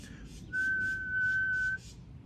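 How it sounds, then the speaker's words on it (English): A long, steady whistled tone held for over a second at one pitch, clear and close, with faint background noise around it. "He puckered his lips into an O. He blew. Out came a long, low whistle"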